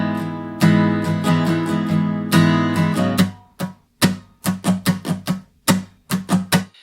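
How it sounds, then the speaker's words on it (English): An acoustic guitar plays a simple country ballad strum, full sustained chords at first, then quicker rhythmic strokes with short muted gaps, close and clear with no voices. "The strumming is really just a simple country ballad strum that sounds like this."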